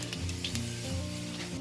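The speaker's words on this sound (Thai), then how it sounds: "ให้นำพริกไปหั่นทอดเลยค่ะ" Chillies sizzle steadily in a hot pan, a loud continuous crackle of frying with no voices.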